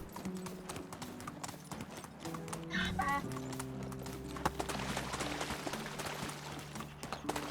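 Donkey hooves clip-clop steadily across ground in the medieval village game Medieval Dynasty, a continuous rhythmic patter with a brief animal call partway through over ambient game sounds.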